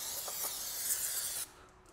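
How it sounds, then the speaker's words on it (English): Brake cleaner sprayed onto the rear drum brakes of a 2010 Fiat Panda makes a steady close hiss for about a second and a half, then cuts off abruptly. "Spray brake cleaner, and the brake cleaner really will"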